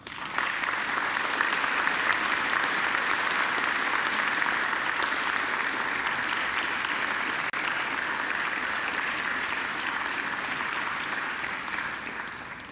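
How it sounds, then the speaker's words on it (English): Graduates at a university graduation ceremony give a long, even round of applause to their families and friends, a broad wash of clapping heard from some distance that fades slightly at the end. "now I invite you to give them a mighty round of applause."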